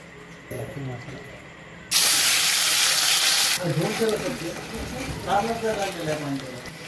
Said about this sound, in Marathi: मसाला चांगला तळसून घ्यायचा आपल्याला तेलामध्ये.